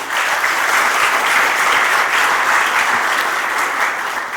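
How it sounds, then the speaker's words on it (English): Loud, dense audience applause opens the ATPI-Marex Global Shipmanning and Training Summit 2023 in India, a full, even roar of clapping sustained from start to finish. "let's hear a big round of applause before we start the ATPI-Marex Global Shipmanning and Training Summit 2023"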